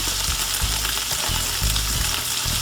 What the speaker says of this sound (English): I'm flipping the shrimp one more time.